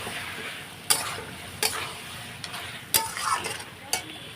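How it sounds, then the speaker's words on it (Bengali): Spices and potatoes sautéing in a pan, a soft sizzle under repeated sharp clinks and scrapes of a spatula stirring against the metal at irregular intervals, close and fairly quiet. "তো এখন আমি এই মশলাটা কষিয়ে নিই আলু দিয়ে"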